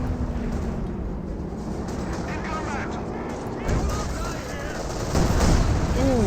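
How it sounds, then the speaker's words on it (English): Company of Heroes 2 battle with a landmine detonation and mortar fire, a continuous rumbling barrage of dull distant blasts and crackling gunfire under a talking commentator, swelling louder toward the end. "detonates a landmine there as well, and that was not a planned landmine detonation"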